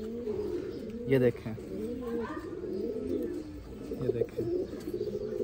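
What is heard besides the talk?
pigeons cooing while being handled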